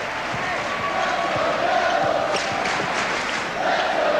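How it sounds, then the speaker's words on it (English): Dense, roaring crowd of Duke student fans cheering at a basketball game against Wake Forest, a steady loud wall of noise with sharp bounces and shouts punctuating it throughout. "Sounds a little bit more like a Duke crowd right now."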